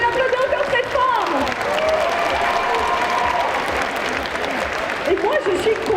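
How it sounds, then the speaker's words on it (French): Loud, steady audience applause at a French geek festival cosplay contest, with whistles and cheering over it and an announcer talking on top throughout. "Vous pouvez l'applaudir encore très fort."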